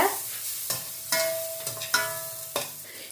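Cashews and raisins fry in butter in a pan, a soft sizzle under several sharp clinks and scrapes of a spoon stirring against the metal at irregular intervals, close up with no speech.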